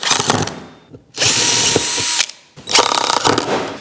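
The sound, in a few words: screwing an aluminium batten onto a frame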